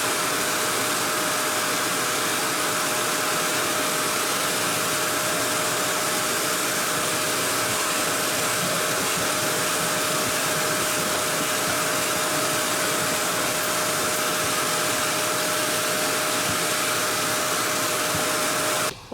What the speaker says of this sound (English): And I'm gonna vacuum it and try it again.